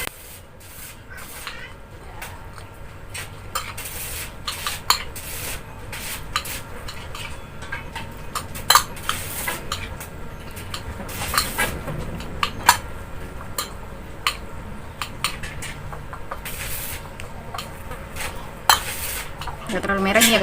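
Spicy fried ramen noodles are stirred in a pan with a utensil, giving repeated scraping and clinking of metal on metal with soft rubbing in between, moderately quiet and close, continuing steadily with sharper knocks now and then.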